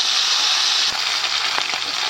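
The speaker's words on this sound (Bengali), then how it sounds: "চলো মাছগুলো ভেজে নিই।" Pieces of fish for a fish-head curry fry in hot oil in a home kitchen, giving a steady, bright sizzling hiss with a few soft pops and crackles throughout.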